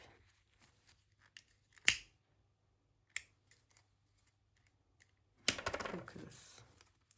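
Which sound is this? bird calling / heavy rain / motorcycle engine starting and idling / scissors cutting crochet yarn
scissors cutting crochet yarn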